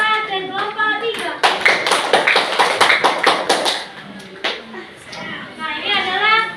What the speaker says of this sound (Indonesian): Tepuk tangan dulu untuk kelompok 4 dan kelompok 3.